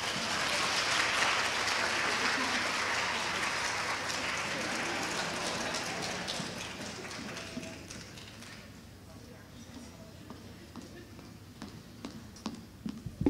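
Loud, dense audience applause at an elementary school promotion ceremony, sustained and then tapering into scattered claps over several seconds, with faint voices underneath.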